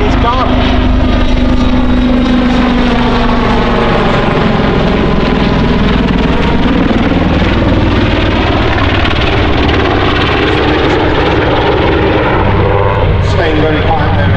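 A loud Armstrong Siddeley Lynx radial aircraft engine runs continuously close by at a Shuttleworth air show, a steady throbbing drone with wavering pitch that holds without a break.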